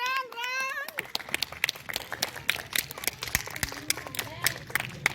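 Children clap in scattered, uneven bursts at a kindergarten sports day outdoors, the sharp claps close and fairly loud between pauses, with an adult voice speaking at the start.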